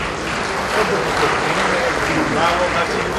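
Steady audience applause fills a Korean business federation's inauguration ceremony for its third president, dense clapping holding even throughout without pause.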